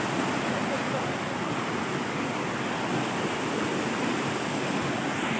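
Water rushing down rocks at Meenmutty waterfall in Wayanad, a constant broadband roar, close and steady, with no breaks across the stretch.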